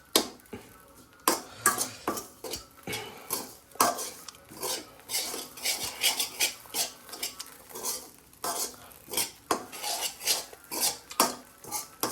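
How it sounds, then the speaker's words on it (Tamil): Bread crumbs fry in ghee while a utensil stirs them in a pan for bread halwa. Repeated close scraping and clinking strokes come in a steady, uneven rhythm. "இந்த ஒயிட்டாக இருக்கிறது எல்லாமே கோல்டன் ப்ரௌன் வர அளவுக்கு நம்ம வந்து ஃப்ரை பண்ணுறோம்"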